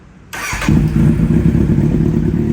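A 2014 Kawasaki Z800 with a full aftermarket exhaust starts after a brief silence, catching at once and settling into a loud, steady, rumbling idle close by.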